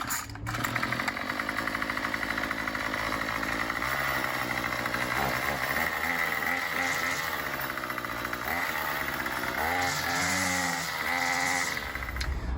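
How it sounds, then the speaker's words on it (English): Gas weed trimmer engine running after a primer bulb repair and carburetor cleaning, a buzzing two-stroke drone that revs up and down repeatedly, close and steady throughout with no talking. "the prime bulb is now fixed, the carburetor has been cleaned out, and the weed trimmer is now functioning"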